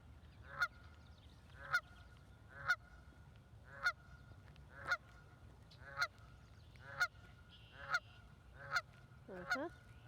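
A goose honks about ten times at a steady, unhurried pace, each call loud and close over a quiet outdoor morning background.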